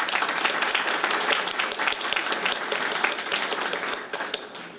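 An audience at a hail and farewell reception gives a full round of applause, loud dense clapping that holds steady for nearly five seconds before starting to taper off.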